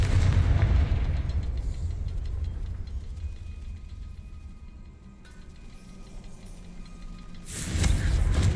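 A Confringo fire-blast spell in Hogwarts Legacy erupts with a loud, booming explosion, fades into quieter game ambience with faint ticking, then a second blast hits at the end.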